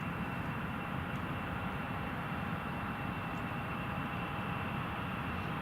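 A British Airways airliner comes in to land in thick fog at Newcastle Airport, a faint, steady distant jet roar with a thin whine, heard alone with no talk.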